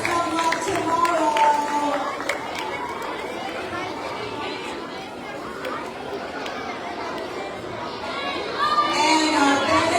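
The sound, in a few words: school assembly audience applauding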